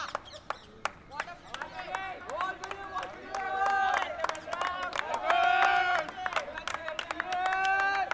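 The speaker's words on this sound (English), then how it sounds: "Lot of cheering from his teammates." Teammates at an inter-batch cricket match cheer and shout, with excited voices rising and falling, a few sharp claps and footsteps, and the crowd noise building to a louder peak around the middle.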